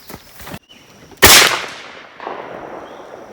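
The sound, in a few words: gunshot at a shooting range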